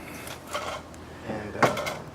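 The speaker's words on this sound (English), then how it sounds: "So I'm coming off with the center cap right here, right there," A plastic wheel center cap is pried off a 2000 Ford Windstar, with a few short clicks and knocks and one sharper snap near the end, heard close and fairly quiet.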